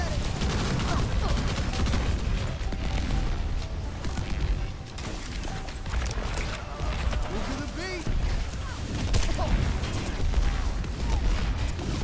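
Overwatch combat with bursts of gunfire, impacts and mechanical ability sounds, dense and busy throughout, under frequent voice chat from players.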